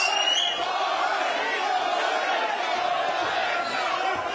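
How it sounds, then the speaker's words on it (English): A boxing crowd on its feet at a live fight at a California casino resort, chanting for Flores, sounds as a dense, continuous roar with voices blended into a steady wall of noise throughout. "Crowd here on its feet chanting Flores."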